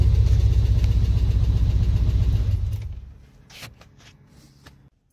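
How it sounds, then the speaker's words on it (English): A snowmobile engine runs loud and close with a rough, pulsing idle, then cuts out and dies away, leaving a few faint clicks and pops in near silence. "it's still not running right. It's backfiring when you give it throttle"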